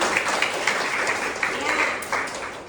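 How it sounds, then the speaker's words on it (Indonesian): Applause in an Indonesian health-institute classroom lesson, a steady wash of clapping from a group of students lasting a few seconds at moderate loudness, with no talk over it. "Berikan aplaus"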